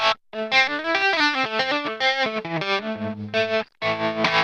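Enya Nova Go Sonic electric guitar played with the bass cut and mids, treble and presence boosted, giving a bright, thin, distorted tone through a run of picked notes and chords, loud and alone.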